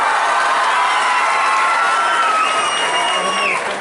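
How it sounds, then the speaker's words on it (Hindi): Schoolchildren in a school audience in Bihar applaud and cheer together, a loud steady wash of clapping mixed with shouts and whoops that fills the room for the whole stretch. "एक बार ताली हो जाइए।"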